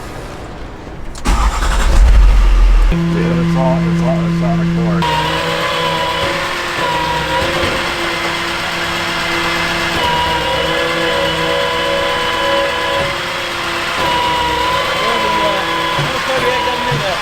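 A dump truck engine cranks and catches, then revs and settles into a loud, steady running rumble close by while people talk over it.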